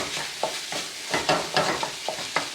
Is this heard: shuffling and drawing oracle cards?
no